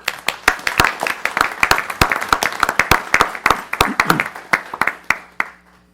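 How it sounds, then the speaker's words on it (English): Applause fills a city council meeting for the police department, a room of people clapping steadily and close for about five seconds before it thins out and stops. "Let's give our wonderful police department another round of applause."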